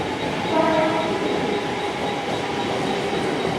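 A train at the local platform of Dadar railway station in Mumbai, during waterlogging, gives a loud, steady rumble of rolling wagons and rail noise that fills the whole stretch with no voices.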